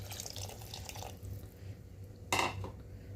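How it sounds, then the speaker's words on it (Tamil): Tamarind water is poured into a pan of South Indian fish curry, giving a soft liquid trickle with a brief, brighter splash partway through, heard close and fairly quiet. "புளித்தண்ணி வந்து கரைச்சி எடுத்து வச்சுருக்கேன். இதை வந்து சேர்த்துக்கலாம்."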